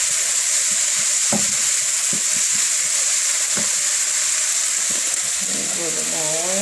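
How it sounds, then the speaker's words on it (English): Onions fry in an oiled pan for hibachi beef fried rice, with a loud, steady sizzle and occasional stirring knocks close by. "We'll fry the onions."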